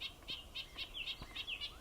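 A nuthatch gives a rapid series of short, high, nasal calls in a steady rhythm, about seven notes in under two seconds, fairly close and clear, answering a played recording in Chaetura Canyon.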